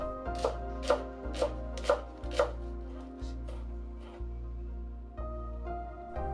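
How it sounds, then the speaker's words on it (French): Steady knife chopping of spring onion into thin rounds on a board, about a dozen crisp, evenly spaced cuts in an even rhythm, close and clear with no talking. "Commençons par la cébette que nous allons couper en fines rondelles"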